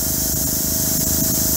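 An airbrush spraying steadily, fed by a Harbor Freight compressor, giving a continuous loud hiss with the compressor's low pulsing motor rumble underneath, close and unbroken.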